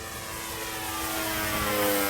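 A giant J Power RC P-51 Mustang flies at half throttle into strong wind on its maiden flight, giving a steady propeller drone that slowly grows louder as it nears.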